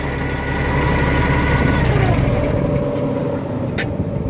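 A large diesel bus engine idles loudly and steadily close by, a deep rumbling drone with a brief higher hiss near the end.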